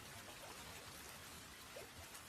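Steady, soft rain falling at a deserted riverside ghat, a faint continuous patter with light drips and no voices over it.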